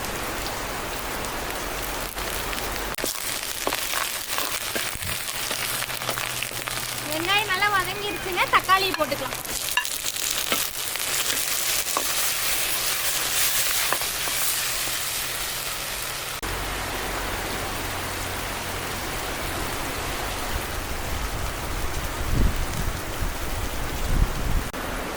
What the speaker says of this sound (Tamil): நல்ல மழை செடிங்களுக்கெல்லாம் நல்லா ஒரே குசியாக இருக்கும்